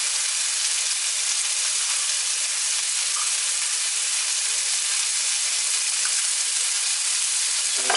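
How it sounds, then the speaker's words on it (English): Steady, even sizzle of egg burrito mixture frying in a pan, a continuous bright hiss with no talking and barely any change in level. "We're gonna fry it a little bit."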